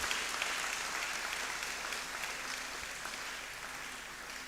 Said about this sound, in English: It's another round of applause for our inaugural lecturer.